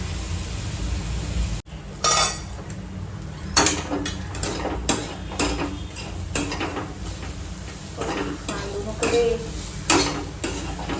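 Chivda roasting in a kadhai with little oil, stirred steadily: repeated scraping and rattling strokes over a faint sizzle, close and prominent, with rhythmic bursts every second or so.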